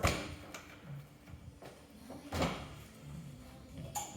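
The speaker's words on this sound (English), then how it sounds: "So you're going to open your door" The door of a 2025 Aliner camper trailer is opened: a few soft knocks and latch clicks, then a fuller thump near the middle and a sharper click at the end, close by in a quiet space.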